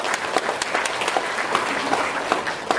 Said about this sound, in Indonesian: Tepuk tangan sekali lagi buat Ibu Inayah.